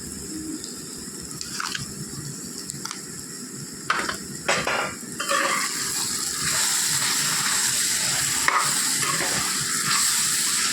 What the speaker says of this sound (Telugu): ఇలా ఉల్లిపాయలు కొద్దిగా మగ్గేంత వరకు ఫ్రై చేసుకుంటూ ఉండాలి